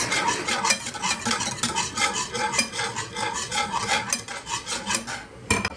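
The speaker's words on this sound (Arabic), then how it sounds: "غادي نحرك مزيان حتى ما كيبقاوش شي كوريات" A spoon stirs cocoa into a mixture in a pot for a chocolate dessert, scraping in quick rhythmic strokes with metallic clinks and a faint sizzle underneath, close and continuous throughout.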